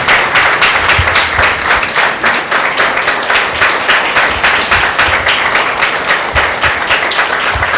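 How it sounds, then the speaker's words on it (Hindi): A church congregation at a Tuesday meeting claps steadily to welcome a visiting pastor, dense loud applause with a quick even rhythm lasting several seconds, no voices over it. "हम जोरदार तालियां बजाकर उनका परमेश्वर के वेदी पर स्वागत करते हैं।"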